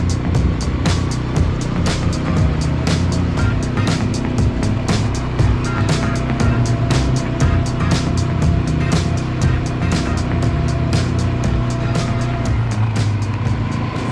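A small car drives along a road in Greece, engine and tire noise steady with occasional sharp bumps and rattles, recorded from inside or close by.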